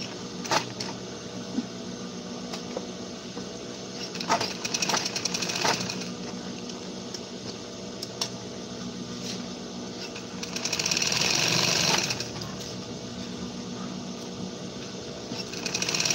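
A sewing machine stitches a coat with a continuous mechanical whir and rapid needle clatter, its speed shifting and briefly rising louder midway through.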